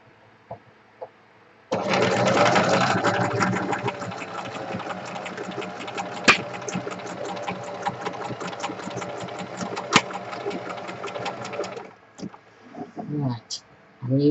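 A sewing machine runs a zigzag stitch through lemon-coloured cotton, starting abruptly and whirring steadily up close for about ten seconds before stopping; a few soft handling taps and brief voice sounds frame the run.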